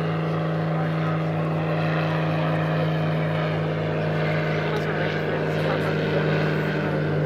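A Helio Courier propeller airplane drones steadily overhead at slow speed with a constant low engine hum and buzzing airscrew, loud and continuous throughout.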